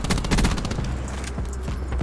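Rapid gunfire in Black Ops 4 multiplayer, loud dense bursts of automatic shots that thin out into scattered single cracks over about two seconds.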